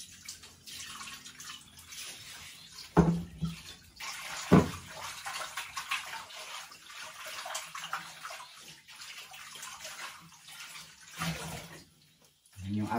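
Tap water running at a home in the mountains, a soft continuous splash and trickle with a few louder gurgling bursts and drips, fairly quiet and close, with faint background noise.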